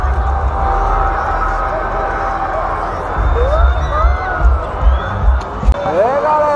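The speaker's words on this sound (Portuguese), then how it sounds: "Tem um povo todo gritando lá na frente" A crowd shouting and cheering outdoors just before New Year fireworks, a dense steady roar of many voices with rising whoops, heard from within the crowd.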